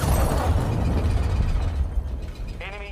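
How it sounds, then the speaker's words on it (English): Cruise missile explosion in Call of Duty MW2, a loud, close, sustained rumbling blast that roars for a couple of seconds and then fades, followed by a brief game voice callout. "cruise missile incoming"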